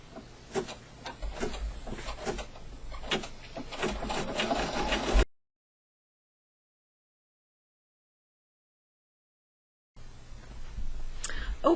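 An embroidery sewing machine stitching an in-the-hoop corner bookmark, its steady rapid needle chatter running close, then cutting to silence for several seconds before the stitching resumes.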